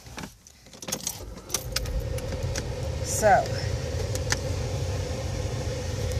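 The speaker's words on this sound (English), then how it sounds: "I'm turning on the car because the phone's getting hot." Car keys jangle, then a car engine cranks and settles into a low running rumble nearby, with a person talking over the sounds.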